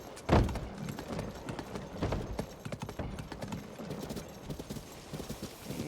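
Horse hooves clip-clop at a gallop in Zelda: Tears of the Kingdom, a steady close rhythm of hoofbeats that runs throughout, with a brief whinny near the start.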